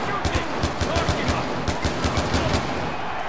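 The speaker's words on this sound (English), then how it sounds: "Firing a short controlled burst to save ammo." Short controlled burst of automatic gunfire from a Far Cry 4 arena battle: rapid, evenly spaced loud shots in a tight rhythm, dense and close, with no talking over it.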